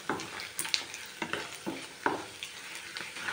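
Hot oil tempering for a red chili pickle sizzles and crackles with spices, made up of soft frying hiss and several sharp pops and stirring clicks, close and steady with no talk.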